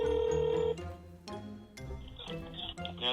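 A ringback tone sounds on an outgoing call to a KTM motorcycle dealership, a steady electronic tone that cuts off and gives way to a line connecting, with clicks and shifting voice-like sounds.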